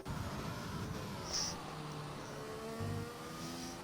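A Lotus Formula 1 car in an F1 racing game at the French round produces a steady, high engine whine with layered harmonics that rise slightly. It is heard at moderate distance, with no voices.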